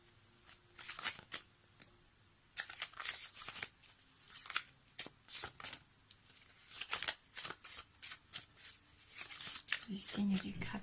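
Oracle cards shuffled by hand during a tarot reading: soft, repeated riffling and flicking bursts, close and fairly quiet, with someone speaking French over and between the shuffles.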